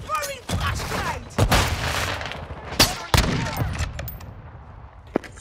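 A flashbang thrown during a Call of Duty Modern Warfare 2 match sits among sharp bursts of gunfire and loud bangs, with a voice heard over the fighting.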